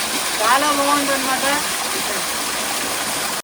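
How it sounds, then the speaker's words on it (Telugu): Steady rushing water fills the clip, a constant broadband roar of Chitimtim waterfall in Meghalaya pouring over rocks, with a voice speaking briefly over it early on. "ఈ రాళ్ళు ఇట్లా నీళ్ళు అయితే పారడం"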